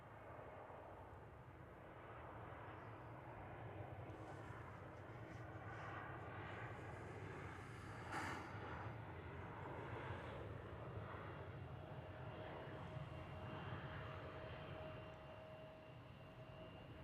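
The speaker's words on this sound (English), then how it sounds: "It's American Airlines Flight 50. It's going to London Heathrow" American Airlines jet departing DFW airport on a flight to London Heathrow, a continuous low engine roar with a rushing hiss, steady and sustained at a moderate distance with no voices.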